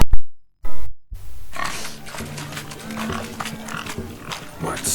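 A pig grunts and snorts in The Witcher 3 at a rural wedding festivity where guests chase the animal through muck, with busy crowd noise and voices around it.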